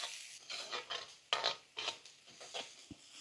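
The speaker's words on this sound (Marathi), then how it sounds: "हे सर्व आपण व्हेजिटेबल व्यवस्थित परतून घेऊ।" A spatula scrapes and tosses finely chopped cabbage, capsicum, carrot and spring onion in a hot pan. The stirring strokes come in quick irregular bursts over a faint sizzle, fairly quiet overall.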